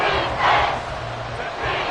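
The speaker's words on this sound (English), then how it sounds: "The Arrowhead crowd in full roar." The stadium crowd at Arrowhead roars in a Madden football video game, a dense, loud wash of cheering and yelling that swells and eases over a couple of seconds.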